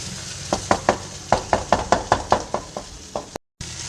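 A spoon stirs white chickpeas gently into gravy in a pot, giving a run of about a dozen soft knocks against the pot in an even rhythm, close and clear with no talk.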